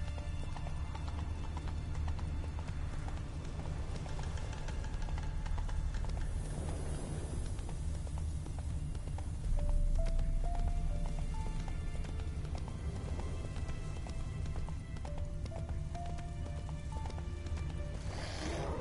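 Horse named Roach trotting, hooves clip-clopping in a steady rhythm with light rain-like patter and faint tonal sounds in the background.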